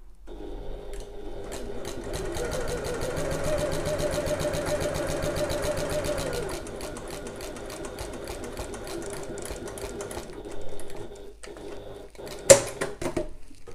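Stitching along a messenger bag from bottom to top, the sewing machine hums in a continuous rapid run, close and alone, easing off after midway with a few clicks and knocks toward the end.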